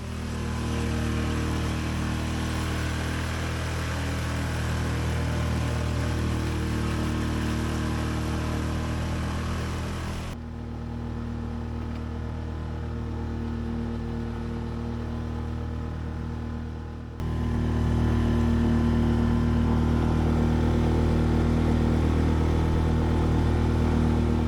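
A 6 hp Tohatsu outboard motor drives a sailboat offshore, giving a steady, continuous drone that holds for the whole stretch, with a brief dip in level partway through before it returns slightly louder.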